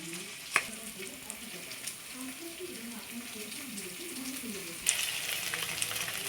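Potato fritters (aloo bora) deep-frying in oil give a steady, close sizzle throughout, with a sharp clatter near the start and another late in the clip. A low murmur of voice sits faintly underneath.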